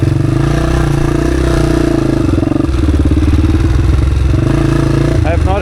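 A Honda XR dirt bike engine, XR250 or XR400, loud and close as it climbs a steep hill with no run-up, throttle feathered to hold a steady rev in first gear, with a slight shift in tone partway through.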